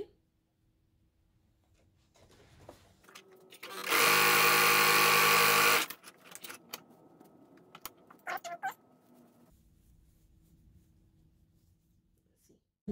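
A sewing machine stitches the seam of a homemade fabric face mask in one loud, continuous burst of about two seconds. Quiet handling noises and scattered light clicks come before and after it.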